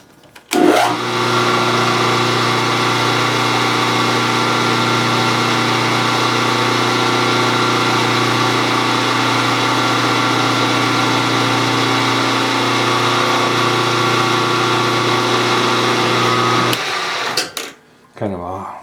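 A drill press spins a reamer at high speed through a metal rocker arm, a steady loud machine whine and hum holding for about sixteen seconds before winding down near the end.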